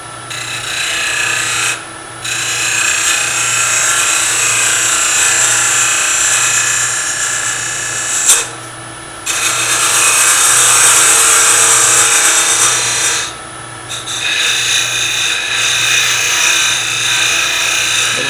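Bowl gouge cutting brown ebony on a woodturning lathe, a loud steady rasping scrape running almost continuously for about eighteen seconds, broken by two short pauses, over the lathe's constant low motor hum.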